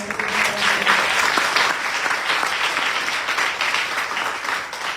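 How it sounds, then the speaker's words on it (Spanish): A church congregation breaks into sustained applause, many hands clapping steadily for several seconds with a faint murmur of voices underneath. "denle un aplauso al Señor"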